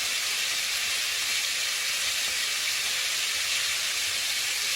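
Beef searing fast in a hot pan, giving a steady, loud sizzle and hiss that holds evenly throughout with no voices over it.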